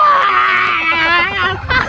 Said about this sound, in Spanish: ¿puedes hacer un grito muy largo?